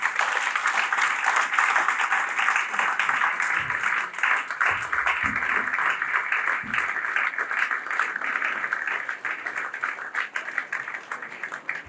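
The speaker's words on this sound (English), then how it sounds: "Join me to give another round of thunderous applause." Sustained, loud applause from a large audience after a speech, dense and steady for about twelve seconds, continuing unbroken to the end.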